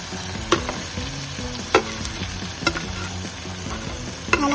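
Dried fish sizzles and fries in oil with cooked tomato in a pan, a steady crackle broken by a few sharp clinks of the spatula stirring.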